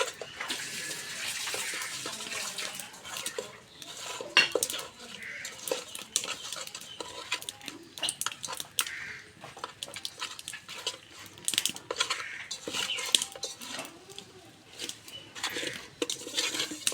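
Small fish (pona) are worked by hand with salt and turmeric in a dish, a continuous wet squishing and rustling with occasional light clinks from the bowl.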